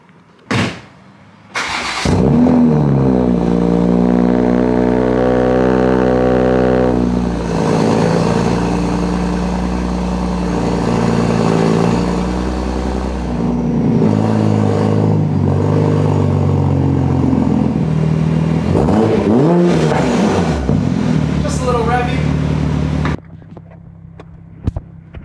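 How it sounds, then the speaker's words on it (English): A Toyota Supra with an RK titanium exhaust cold-starts: a brief starter whirr, then a loud flare of revs settling into a high, rumbling idle that holds for about twenty seconds before the engine cuts off. "Let's go ahead and get you guys a cold start. And there's the beautiful RK titanium exhaust."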